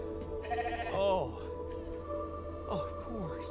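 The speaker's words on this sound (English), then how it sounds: "Goat." A goat bleats in the video game The Alters, with a couple of wavering, nasal bleats, one louder near the start and softer ones later, over a quiet ambient drone while someone briefly speaks.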